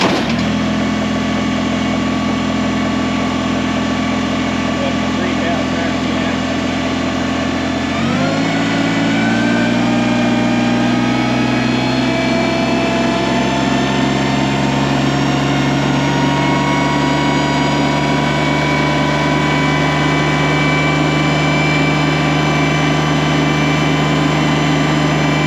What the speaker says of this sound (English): start up the tractor, put it to 3000 RPM, and it should give us what our gauge is reading